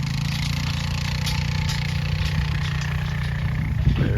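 A hay bale unroller runs steadily, its engine droning at a constant idle-like pitch for the whole stretch, close and loud with no talking over it.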